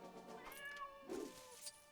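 A cat meows in the video game Lego Iniemamocni (Incredibles), a couple of soft, faint mews over quiet game music, with no talking.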